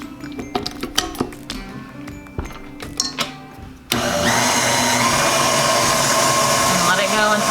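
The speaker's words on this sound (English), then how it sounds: "Now I'm gonna dump all of that into the bowl of my stand mixer. Add the whisk attachment." A stand mixer with a whisk attachment mixing rosemary and Kalamata olive bread ingredients in its bowl: a few clinks and handling knocks first, then the motor kicks in abruptly and whirs loudly and steadily to the end.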